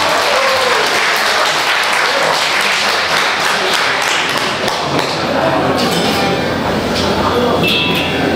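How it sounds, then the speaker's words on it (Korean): Loud, sustained audience applause fills a concert room during a holiday music evening at a live restaurant, dense clapping continuing steadily after a surprise guest's song, with faint voices mixed in. "다시 한번 박수"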